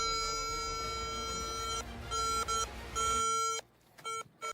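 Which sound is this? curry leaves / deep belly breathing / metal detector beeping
metal detector beeping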